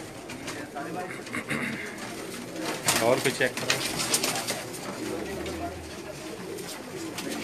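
Pakistani pigeons coo softly on a rooftop loft in Jeddah, a low continuous murmuring beneath someone talking nearby, with a brief louder rustle midway.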